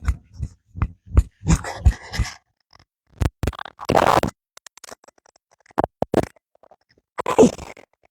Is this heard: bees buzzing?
no